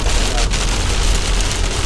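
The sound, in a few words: heavy rain on a driving car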